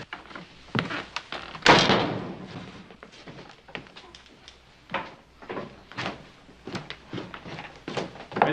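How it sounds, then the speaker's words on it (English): A door is pulled shut in an old western hotel room, giving a fairly loud, close thump among rustling movement and several smaller knocks and bumps. "Shut the door, will you?"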